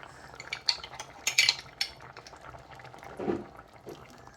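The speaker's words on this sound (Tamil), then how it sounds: "தேங்காய் பால் விட்டாச்சுது பாருங்க" Coconut milk is poured into a simmering tin fish curry with potato, bringing light metallic clinks and stirring, then a soft liquid gurgle toward the end.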